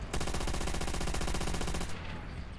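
Rapid automatic gunfire in the video game Call of Duty: World at War, a loud, tightly spaced burst lasting nearly two seconds, then a fading reverberant tail.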